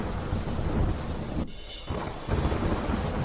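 A heavy downpour drums steadily on flooded streets in Lucknow, with deep rolling thunder throughout, a brief lull mid-way, then the rain and rumble surge back.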